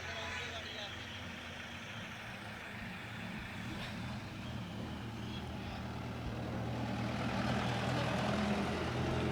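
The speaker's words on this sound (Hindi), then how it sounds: "ये ट्रैफिक जाम है सर जो लगातार कंटिन्यू इसी तरह महीनों चलता रहता है" A traffic jam at Nirdosh Chowk in Akhnoor gives a steady, dense wash of idling trucks and car engines with a low rumble, a continuous close drone that swells slightly toward the end, with no clear voices.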